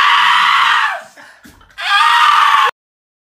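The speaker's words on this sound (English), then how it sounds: "We can scream as loud as we want now." Loud, high-pitched screaming from a few girls, two sustained shrieks separated by a brief breathy pause, then sudden silence.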